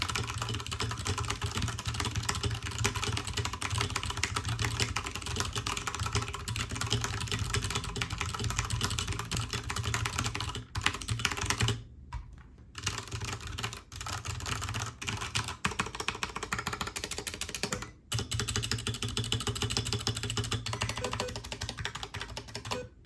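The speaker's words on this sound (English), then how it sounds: "When you press on the keys, they kind of just have this kind of unstable, rattly sound to them" Rattly, unstable-sounding computer keyboard typed on steadily and up close, a dense stream of clicks that runs almost without a break and stops only for a couple of short pauses.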